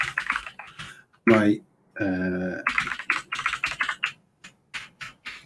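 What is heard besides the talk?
typing a password on a computer keyboard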